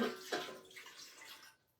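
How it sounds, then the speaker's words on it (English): Water is poured into a home cooking machine, a short, fairly quiet splashing gush that tapers off after about a second and a half. "So I'm putting my water in."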